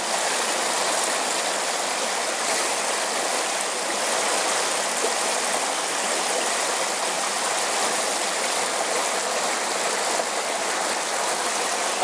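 Stream water flows and splashes around a rock in a steady, unbroken rush that fills the whole stretch with even, close-up noise and no voices.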